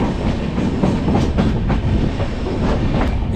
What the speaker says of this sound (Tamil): இப்போது ட்ரெயின் உள்ளே என்ட்ரு ஆகுறது ஆடுதுறை ரயில்வே ஸ்டேஷன் தாங்க